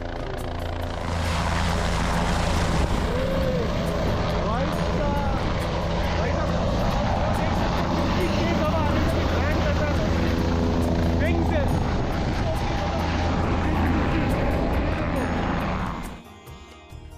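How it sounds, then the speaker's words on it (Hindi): A helicopter roars close by at a Kedarnath helipad with a heavy rotor thump and engine whine, steady and loud for most of the clip, then the noise drops away suddenly. "ये जस्ट मेरे हेलीकॉप्टर यहाँ पे हेलीपैड में लैंड करेगा"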